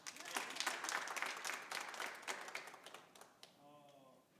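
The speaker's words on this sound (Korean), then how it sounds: "다 같이 한번 장로님을 박수 한번" A church congregation at a Sunday worship service claps together for an elder, a dense burst of applause that gradually thins and fades before a voice begins speaking near the end.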